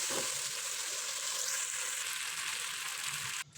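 Winter vegetables for khichuri sautéing in a covered pan, giving a steady, fairly loud hiss of frying that holds evenly for a few seconds before cutting off abruptly at the end.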